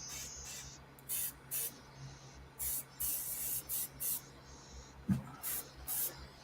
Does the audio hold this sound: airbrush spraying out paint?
yes